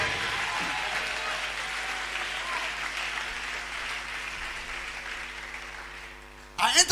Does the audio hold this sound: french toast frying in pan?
no